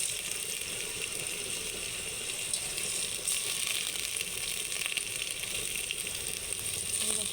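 Rice frying in a little oil with spices for a low-oil pulao, giving a steady, soft sizzle with faint scraping and clicking of stirring throughout, no voices.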